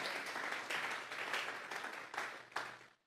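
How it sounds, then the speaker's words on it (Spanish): A church congregation gives a sustained burst of applause, dense clapping swelling and fading over a few seconds before cutting off near the end. "Vamos a regalarle ofrenda de palmas al Dios de la gloria."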